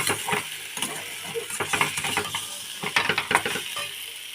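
Fried potatoes and eggs stirred together in a pan, with busy rattling scrapes and clicks of a spatula over faint frying, close and continuous, no talk.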